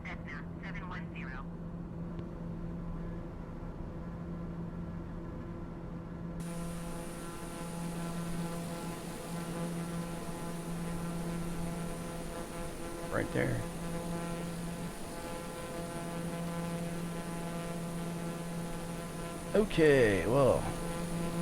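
A Cessna engine drones in flight within a flight simulator game, a steady low propeller hum with faint tonal buzz running under brief talk and a couple of short radio-like bursts.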